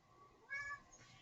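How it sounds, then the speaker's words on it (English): A house cat gives a single short meow, fairly quiet and close, against a faint background hiss. "Just chill, cat."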